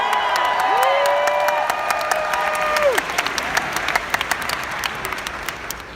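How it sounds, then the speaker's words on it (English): A large audience at a book tour talk erupts in loud applause and cheering, with sustained clapping and a whoop rising over the crowd before the noise thins into scattered claps. "might be the best round of applause I've ever got in my life"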